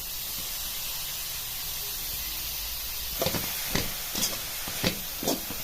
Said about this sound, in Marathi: गाजर असं परतून घ्यायचं एक दोन पाच मिनिट असं तुपावरती परतलं